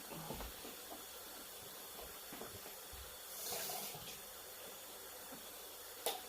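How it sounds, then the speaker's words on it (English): Tap water runs through an empty tomato tin in a kitchen, a faint, steady hiss with a brief louder splash in the middle and a few small clinks. "just run a little bit of water through it"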